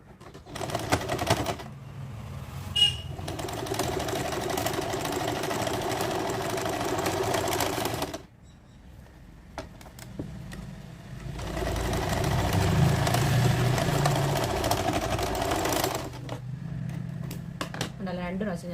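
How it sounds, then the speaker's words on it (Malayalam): A sewing machine stitching a garment neck runs in two long, steady whirring bursts separated by a short pause, loud and close, with a brief start-up buzz at the beginning. "2 പ്രാവശ്യം ഞാൻ സ്റ്റിച്ച് ചെയ്തെടുത്തിട്ടുണ്ട്."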